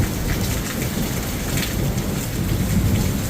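Heavy rain pours steadily on a mountain hillside during a thunderstorm, with dense, continuous broadband hiss and low rumbling thunder underneath, loud and close, with no voices.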